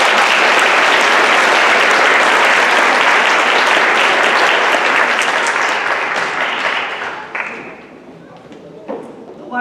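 Loud, dense audience applause at a school academic and scholarship awards ceremony, sustained for several seconds before thinning out into scattered claps and fading near the end.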